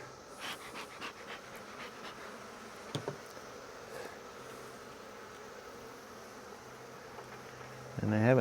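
Honeybees hum in an open hive during an inspection, a low, continuous buzz close by with a few sharper taps. A louder rustle and bump come at the end.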